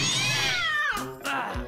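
A stray cat gives one close, clear, drawn-out meow followed by a short second cry.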